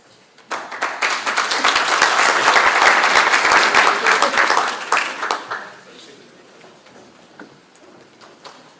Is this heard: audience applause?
yes